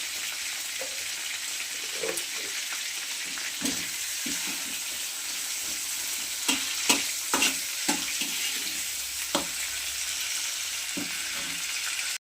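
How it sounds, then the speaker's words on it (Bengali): Mustard greens, mixed leafy greens and lentil dumplings stir-frying in oil with ginger-garlic paste, a continuous sizzle broken by irregular clattering spatula stirs and scrapes, close and moderately loud with no talking. "ডাইরেক্ট তেলে আমি ভাজা করবো"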